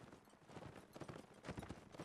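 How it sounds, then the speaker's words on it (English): Horses gallop across the field in Mount & Blade: Napoleonic Wars, a dense stream of hoofbeats with battle ambience behind them, quiet and somewhat distant. "Are they going to get barged aside by the horses?"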